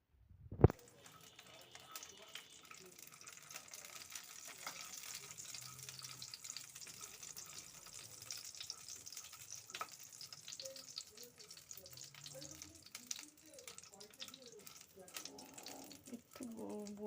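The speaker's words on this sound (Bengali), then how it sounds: "এগুলো একটু ভাজতে হবে" Winter vegetables fry in a pan for a mixed vegetarian curry, a steady soft sizzle running throughout after a sharp clatter at the start, with occasional stirring scrapes and a voice speaking now and then.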